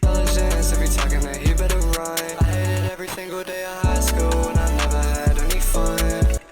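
A beat with an automated lo-fi effect plays loud and steady, its deep bass notes and muffled, filtered drums cutting in and out in short repeating phrases.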